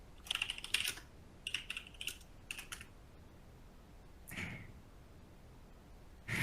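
Fingers tap a computer keyboard in short bursts of quick keystrokes with pauses between, close and fairly quiet, followed by a softer shuffling sound.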